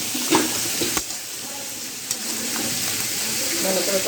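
A fish head sautés in a pan, a steady soft sizzle with occasional stirring clatters and scrapes of a utensil, heard fairly close.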